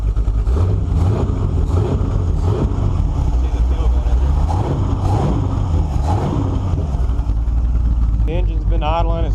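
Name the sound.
1948 Chevy engine revving with Quick Fuel 750 carburetor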